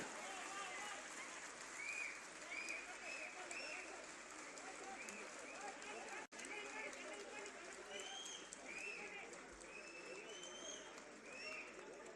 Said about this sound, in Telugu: ఏమండి చప్పట్లకు పోటీ పెడదాం బంగ్లా నుంచి ఎక్కువ వస్తాయా చప్పట్లు కింద నుంచి ఎక్కువ వస్తాయా